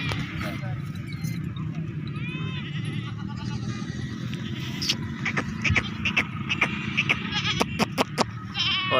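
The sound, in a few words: goat bleating at livestock market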